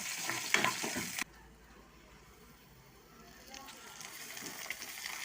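Onions, green chillies, curry leaves and urad dal frying in hot oil for cabbage chutney, a loud burst of sizzling in the first second dropping to a softer, steady crackle with faint stirring.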